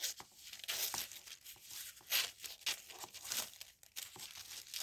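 Scissors or a trimmer cut through plain pink craft paper in a quiet room, giving a run of soft, crisp rustles and slicing crinkles close by, with no talk.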